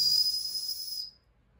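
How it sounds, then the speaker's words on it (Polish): Shrill whistle built into a Mil-Tec knife, blown once in a single loud, piercing, breathy blast about a second long that cuts off sharply. "Mamy gwizdek."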